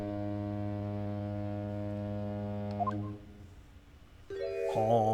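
A ship's horn sounds in The Great Ace Attorney 2, a long, steady, loud tonal blast holding for about three seconds, then fading as softer game music and chimes take over.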